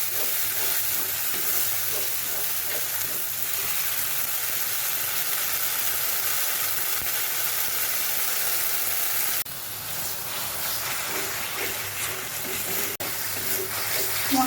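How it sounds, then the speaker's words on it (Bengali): Spice masala with tomato paste fries and gets stirred in a pan, a steady hissing sizzle held for a long stretch, fairly loud and close, with a slight shift in tone partway through. "টমেটো বাটা। এবার ভালো করে আর একটু কষিয়ে নেব।"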